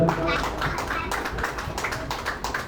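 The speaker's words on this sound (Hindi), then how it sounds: "अब ये तालियां बजा सकते हैं जोरदार।" Audience clapping at a Seerat-un-Nabi conference at a city press club, a dense steady patter of many hands filling the room without a break.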